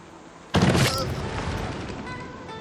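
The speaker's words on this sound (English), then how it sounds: "The kind of rippling echo of the shot." Ship bombardment in Civilization VI: one sudden loud boom breaks a quiet background, then a long rippling echo rolls away and fades slowly over the next two seconds.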